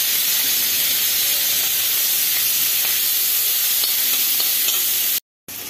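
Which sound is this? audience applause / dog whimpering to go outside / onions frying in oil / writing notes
onions frying in oil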